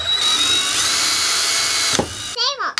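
A power drill boring holes in PVC pipe for a Halloween scarecrow, one loud sustained whine that cuts off, followed by a brief voice.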